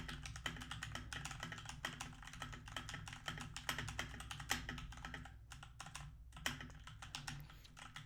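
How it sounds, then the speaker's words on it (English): Mechanical keyboard fitted with Gateron red switches being typed on in a steady, dense clatter of key presses, recorded off-axis behind a cardioid USB microphone, with no talking. "and my keyboard has Gateron reds."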